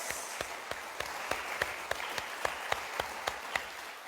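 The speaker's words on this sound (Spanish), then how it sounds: "Dale un aplauso al Señor," A church congregation applauding during a sermon, steady rhythmic clapping in unison with sharp, evenly spaced beats, fairly quiet and somewhat distant.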